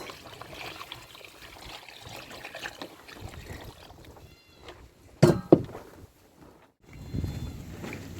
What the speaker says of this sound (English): Now we're going to wash it.